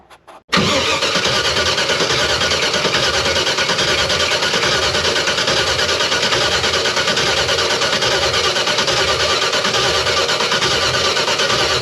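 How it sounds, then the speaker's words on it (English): An old car that has sat unused for 20 years is cranked with the ignition on after the carb is pumped. A brief knock comes first, then a loud, steady, continuous mechanical whir drones on close by without catching. "give it a couple pumps of the carb, and see if we can get this thing to light off."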